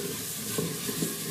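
Spices sizzle as they fry in a pan for a tadka while being stirred, a steady close hiss with a couple of soft scraping stirs.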